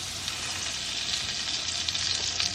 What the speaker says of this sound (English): I think it's brown butter now.